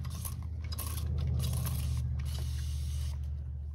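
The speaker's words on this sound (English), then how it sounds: "I just want to spray this really good" Close, rapid hissing bursts of a spray bottle being pumped several times, over a low steady hum.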